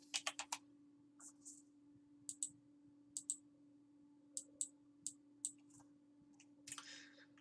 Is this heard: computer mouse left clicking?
yes